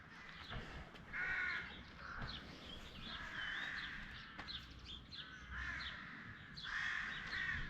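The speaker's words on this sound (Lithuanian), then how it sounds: "Varnų labai daug čia." Crows caw repeatedly outdoors on a warm summer day, several harsh calls at moderate distance coming in irregular groups over steady wind and background ambience.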